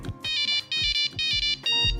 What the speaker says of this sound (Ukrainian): з розваг телефон уже дозволяв слухати прості мелодії